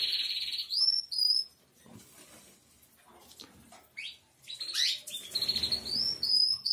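Small birds chirp and tweet in bright, high bursts, close by, with rustling and brief fluttering between calls.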